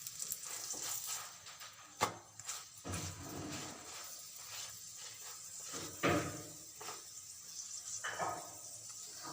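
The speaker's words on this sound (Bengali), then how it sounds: "এইভাবে আমি সব পরোটাগুলো ভেজে নেব" Radish-stuffed paratha frying in a pan, a soft steady sizzle running throughout with occasional louder clatters and scrapes of a spatula or utensil, no talking.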